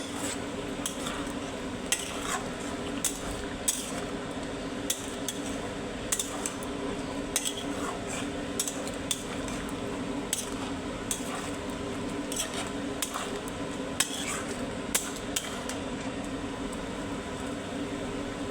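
Mutton being stirred in a pan on a gas stove, with hot water recently added. A spoon scrapes and clicks against the metal in a loose, repeating rhythm over a constant low hum from the stove and kitchen.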